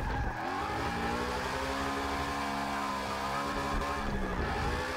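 A Mustang drifting on the Nürburgring in Forza Motorsport 6: a steady, loud engine drone with shifting revs and tire squeal running unbroken through the whole stretch, no talk over it.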